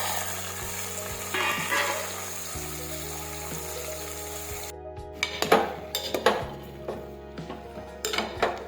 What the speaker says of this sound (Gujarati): હવે આપણે તેમાં બધા શાકભાજી નાખી દઈશું સમારેલા